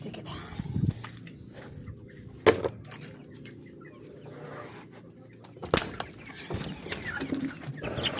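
Chickens and other poultry cluck and squawk in a farmyard, with irregular bursts of clucking and flapping, some close and loud, while someone talks intermittently over them.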